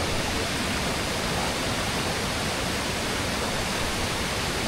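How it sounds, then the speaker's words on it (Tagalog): Pinamun-an Falls in Nagcarlan, Laguna roars with a steady, loud wash of falling and rushing stream water that fills the whole moment without a break. "Ang lakas kasi ng agos ng tubig."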